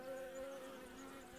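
Honey bees buzz around a hive on a winter day, a faint, steady droning hum with no voices.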